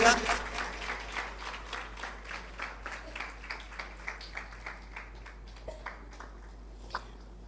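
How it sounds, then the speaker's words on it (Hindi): Slow, thinning claps from a church congregation praising Jesus Christ, a series of distinct separate hand claps that fade in density over several seconds, moderately distant. "थकी हुई तालियां ना बजाएं,"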